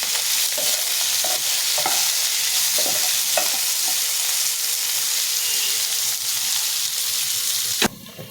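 Thankuni leaf shukto sautéing in a pan, with a steady close sizzle and repeated scraping stirs of a spatula roughly every second, ending in a sharp clank near the end; no one speaks.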